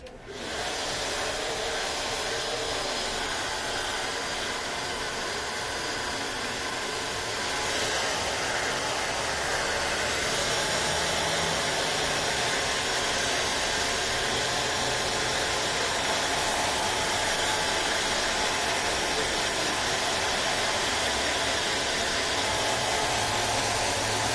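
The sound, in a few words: hair dryer blow drying hair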